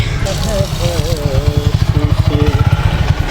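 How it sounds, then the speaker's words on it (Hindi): A motorcycle engine putters with a fast, regular pulsing beat, close and loud, while voices talk over it. "वो तो देखिए बाइक में आ रहा है।"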